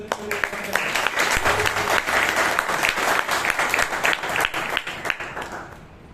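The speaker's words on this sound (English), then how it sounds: "Can you round of applause for the" Dense, steady audience applause at a Bangalore Toastmasters club meeting, loud and sustained for about six seconds with a few voices mixed into the clapping before it thins slightly at the end.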